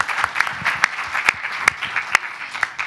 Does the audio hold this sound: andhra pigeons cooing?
no